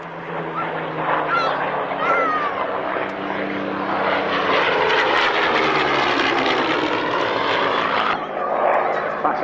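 A Mark II Spitfire flies past at the Duxford Flying Legends Airshow in 1999, its piston engine a loud, rough drone that swells and shifts as it passes, with a voice audible over it.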